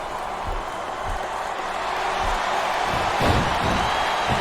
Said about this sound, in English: Wow, listen to that chant, Taz